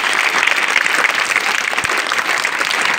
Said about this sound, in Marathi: एकदा जोरदार टाळ्या आपल्या शाळेच्या वतीने